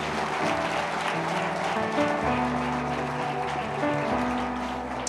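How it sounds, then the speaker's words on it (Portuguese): A church congregation applauds during a worship service, a steady wash of clapping that fills the hall for several seconds, with a voice speaking over it. "Aplausa a ele mais uma vez."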